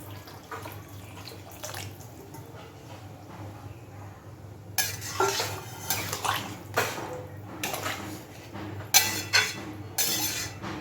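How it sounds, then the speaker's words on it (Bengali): Water is poured into a pot of ghugni, a spiced pea curry, in several splashy bursts of gushing liquid with a few clinks of metal utensils against a steady low kitchen hum. "এবার এর মধ্যে আমি আরও খানিকটা জল দিয়ে দিচ্ছি।"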